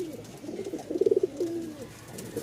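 A mother Giribaz pigeon, kept apart from the others for breeding and laying eggs, gives a close, clear coo: a quick run of pulsed throaty notes followed by a drawn-out tail, with no talking.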